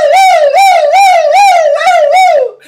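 A human voice imitates a police car siren, a loud close rising-and-falling wail repeated about six times in quick rhythm, tapering off at the end.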